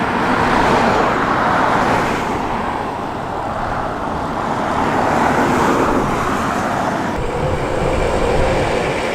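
Classic Thornycroft Trusty lorry rumbling past on a road run, a loud, steady engine roar and road noise swelling and easing over several seconds, close by, with no talk.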